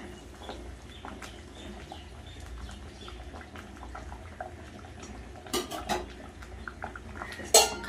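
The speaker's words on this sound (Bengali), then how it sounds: "ঝোল কিন্তু ফুটে গেছে, এবার ভেজে রাখা ডিমগুলো দিয়ে দেবো।" Fried eggs go into a pot of boiling egg curry, with scattered clinks and scrapes of utensils against the pot over a low steady simmer, ending in a couple of louder metallic clatters.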